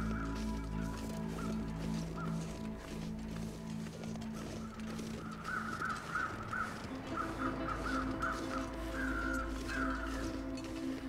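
Crows caw in the game The Long Dark, repeated harsh calls in short bursts over a steady low ambient hum, clustering more densely in the second half.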